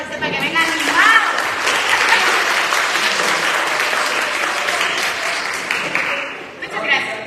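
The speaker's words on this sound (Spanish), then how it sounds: "démosle un aplauso al hermano Vicente para que venga animado" A congregation at a Father's Day gathering claps steadily for a man coming forward, a full, even round of applause lasting several seconds that tapers off near the end, with a voice briefly heard at the start.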